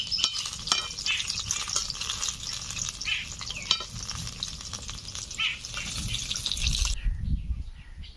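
Ripe palm fruit fritters frying in oil give a close, bubbling sizzle with scraping stirs and clinks that stops abruptly near the end.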